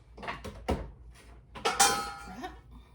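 Electric mixer beaters knocked against a bowl after blending an Oreo Delight dessert, a few sharp metallic clanks and taps up close in a kitchen.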